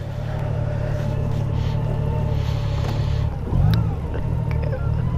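A CSC Goldwing trike rolls along on a ride, a steady low engine rumble with road and wind noise throughout and a brief swell of throttle midway.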